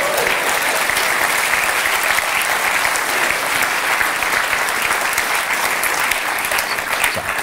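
A comedy show audience breaks into loud, sustained applause, dense clapping filling the room evenly from start to finish.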